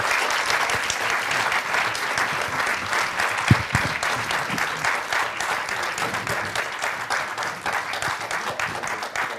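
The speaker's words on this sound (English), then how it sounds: "Je vous laisse accueillir Roberta Metsola, qu'on peut applaudir la présidente du Parlement européen." A conference audience at a Jacques Delors event applauds to welcome the President of the European Parliament, steady rapid clapping from a large room that continues throughout, with one louder thump early on.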